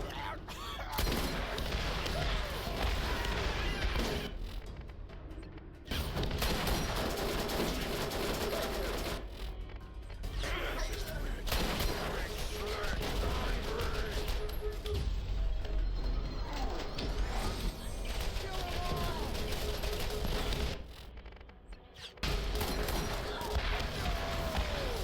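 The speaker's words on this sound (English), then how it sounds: "Oh, right, I got a rocket launcher." Dense, loud gunfire and explosive blasts from a rocket launcher in the video game Borderlands, with heavy bursts running almost continuously and only a few short lulls between volleys.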